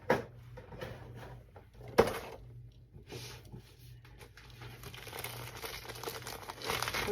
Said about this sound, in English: We always put our Funkos or anything in bags, like just clear plastic bags